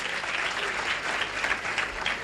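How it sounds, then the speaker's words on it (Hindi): Vigorous audience applause at a district development review event in Moradabad, a dense, continuous crowd of clapping hands holding steady and loud throughout the short stretch. "सबसे पहले तो मैं चाहूंगी कि जोरदार तालियां बजाएं आप सभी जो यहां पर हैं।"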